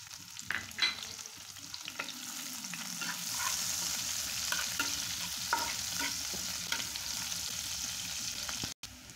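Chopped onion dropped into hot oil in a pan for pabda fish with lemon leaves swells into a loud, steady sizzle, broken by close scraping stirs and brief clicks, with no one speaking.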